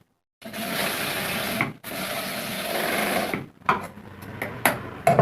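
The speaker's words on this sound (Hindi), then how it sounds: "हम पीछे से सिलाई चलाएंगे और एक मोड़ की सिलाई लगाएंगे" A sewing machine stitches a belt onto trousers in two long steady runs, then a string of short stop-start bursts, close and clear with no talking.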